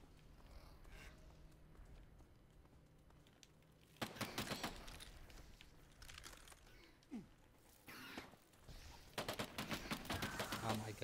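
Rapid bursts of AK rifle fire in the video game Earthfall, several loud automatic volleys separated by quieter gaps, with a voice talking over the action.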